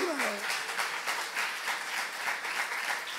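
A church youth congregation applauds during a sermon, a steady round of clapping at moderate distance, fairly soft, with a voice briefly audible at the start.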